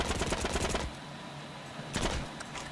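Automatic gunfire in the online war game Heroes & Generals: a dense, rapid burst of shots for under a second, a pause, then another short volley followed by scattered single shots.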